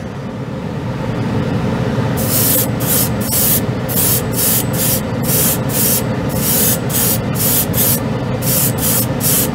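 An airbrush sprays white scale-model paint in a string of short hissing bursts, roughly a dozen in rapid succession, over a constant loud compressor-like drone.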